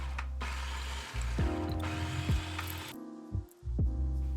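A food processor chops red onion and dill pickles, its motor whirring up in short, pulsing runs with shifting pitch and rattling blades, close and steady with brief stops between pulses.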